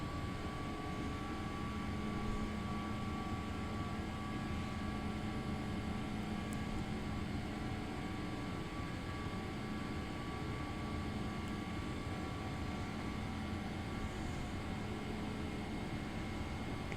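Steady broadband engine roar from a simulated airliner in a flight simulator game on a Baltimore to Heathrow route, a constant dense whoosh with faint tonal hum, continuous and unchanging throughout with no talk.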